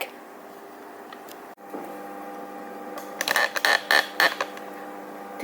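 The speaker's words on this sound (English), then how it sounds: "I'm going to adjust the camera and be back." Camera being adjusted at a sewing setup, a low steady hum with a sharp click, then a cluster of creaking, ratcheting mechanical clicks close by, with no talking.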